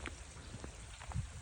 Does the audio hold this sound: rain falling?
yes